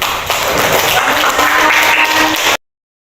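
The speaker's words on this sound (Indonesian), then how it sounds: "kita aplaus untuk grupnya Fatir." An audience claps for a student group at a classroom presentation, with steady, dense applause that carries for about two and a half seconds before stopping abruptly.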